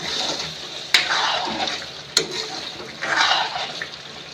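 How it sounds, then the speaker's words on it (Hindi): Water pours briefly into a pan of simmering chicken liver gravy, a short close liquid splash and trickle with a couple of sharp clinks against the vessel. "हम इसमें थोड़ा सा पानी ऐड करेंगे, थोड़ा सा, ज़्यादा हम नहीं डालेंगे इसमें पानी।"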